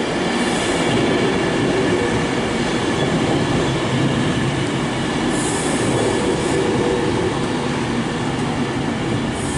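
Class 390 train pulling into Stockport station on the West Coast Main Line from Manchester Piccadilly, a loud steady rumble of wheels and traction with faint squeals throughout, close by and without speech.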